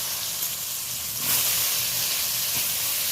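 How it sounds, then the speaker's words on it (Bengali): Salted, turmeric-coated eggplant slices fry in hot oil with a steady hiss and sizzle, rising briefly to a louder burst of spitting. "বেগুনটা ভেজে নিচ্ছি তার কারণ বেগুনটা ঘেঁটে যেতে পারে তরকারিতে, এই জন্য বেগুনটা হালকা ব্রাউন কালার করে ভেজে নেব।"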